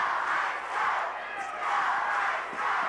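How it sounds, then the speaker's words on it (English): A professional wrestling arena crowd roars and cheers steadily, a dense sustained wall of noise rising and falling over a few seconds, with no clear commentary on top. "And the crowd exhorts the Iceman."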